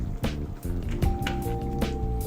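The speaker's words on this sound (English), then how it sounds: "add in a small cap of vinegar" A small capful of vinegar poured into a sugar and salt mix for paneer makhanwala gives a brief, close, wet splashing with soft squishy drips.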